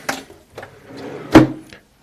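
A few short wooden knocks and a sharp slide-and-thump of a hotel room drawer being pulled open in the UK, close by and otherwise quiet.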